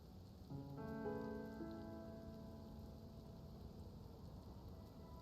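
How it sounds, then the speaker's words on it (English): Steady rain falls in a video game, a close, even hiss that runs the whole time, with soft sustained musical tones entering early and lingering beneath it. "I'm just waiting for the rain to stop"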